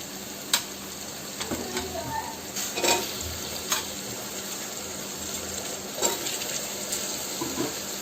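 Carrots and potatoes frying in oil in a pan for spiced pulao rice, a steady sizzle punctuated by occasional scraping stirs and spoon clinks against the pan, with brief speech.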